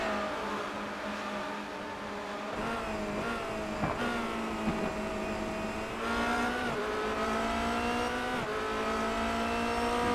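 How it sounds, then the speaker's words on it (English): Formula race cars at the Zandvoort circuit in iRacing, with engines whining continuously through shifting revs and gear changes and several cars overlapping loudly for the whole stretch. "He's got the yellow car of Ronku right behind him."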